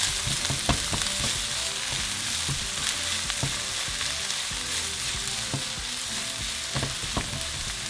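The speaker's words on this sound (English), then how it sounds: "we're going to add our onions and tomatillos. And we're going to saute them for a couple minutes." Onions and tomatillos sauté in a hot pan, giving a loud, steady sizzle with occasional crackles and stirring clatter, alone without voices.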